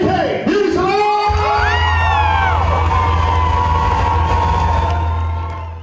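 An audience at the Battle of the Salons hair and makeup show in Chicago erupts in loud whoops, screams and cheering, with sustained shouting voices over a steady background hum.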